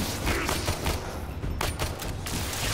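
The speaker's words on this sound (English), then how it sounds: "I'm just gonna shoot the mess out of him" Rapid bursts of gunfire in the video game Warframe, dense and loud across the whole stretch with brief lulls between volleys.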